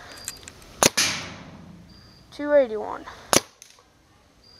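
A Dye Rize paintball marker firing over a chronograph gives two sharp, loud, close pops a couple of seconds apart, with a brief spoken number between them.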